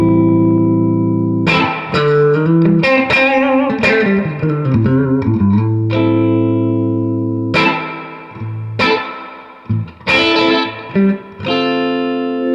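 A distorted electric guitar plays an A seventh chord, strummed repeatedly in a loose rhythmic pattern with sustained ringing between bursts of quicker strums, loud and close.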